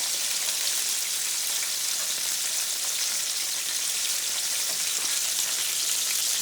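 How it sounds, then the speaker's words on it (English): Hot grease sizzling and popping as chicken legs fry in a pan, a dense, steady crackle heard up close with no talk. "Ooh, that grease popping over there."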